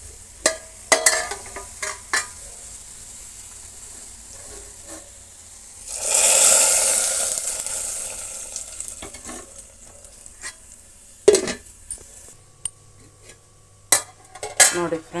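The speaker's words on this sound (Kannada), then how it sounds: "ನೋಡಿ ಫ್ರೆಂಡ್ಸ್, ಒಗ್ಗರಣೆ ಕೊಟ್ಟಾಗಿದೆ" Hot oil tempering poured into a pot of tamarind-flower and horse gram sambar, a loud hissing sizzle burst in the middle framed by sharp clinks and scrapes of a spoon against metal pots; no voices.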